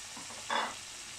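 A brief stir of zucchini, onion and potato frying in a pan for an Egyptian vegetable tagine, a short soft scrape and sizzle burst over a faint background hiss.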